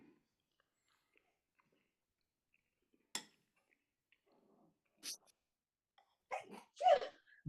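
A sharp sneeze breaks a mostly quiet room, followed by a few soft clicks and brief muffled sounds.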